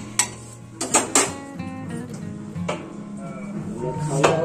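A plate is set over a cooking pot of vegetable curry on a home stove, with a few sharp ceramic-on-metal clinks and clatters early and again near the end over quiet kitchen background.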